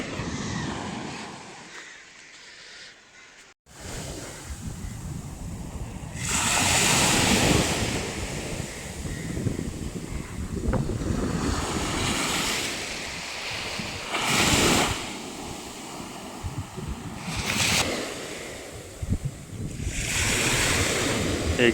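Sea waves at a hidden beach in Guhagar, with separate surges breaking every few seconds over a constant roar of surf and some wind noise, after a short quiet moment at the start.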